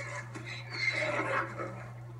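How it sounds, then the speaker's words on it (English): A goat in the video game Far Cry Primal gives a single wavering, bleating call over a steady low background hum. "How do you make those noises, goat?"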